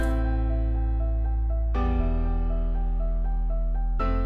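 Sustained synth chords stab in a repeating pattern over a deep bass tone, the harmony shifting twice in a smooth, house-style groove.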